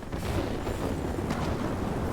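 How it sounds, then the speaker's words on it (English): Continuous heavy booming from 23mm aircraft cannons firing in World of Warplanes: loud, rumbling and dense, with the rapid shots blurring into one sustained roar. "Let's go ahead and just use the 23mm cannons to do 23mm cannon stuff."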